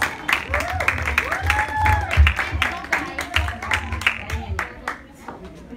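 Audience at an 18th birthday debut celebration applauding the debutante's dance performers, clapping mixed with crowd noise and voices, with music or tonal sounds over it, fairly loud and sustained.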